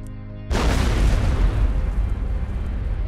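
A sudden loud explosion bursts in after a brief quiet moment, followed by a sustained deep rumbling roar that slowly fades.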